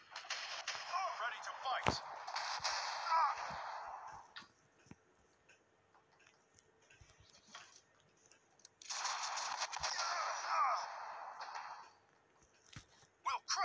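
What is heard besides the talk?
gunfire volley in video game Shogun's Empire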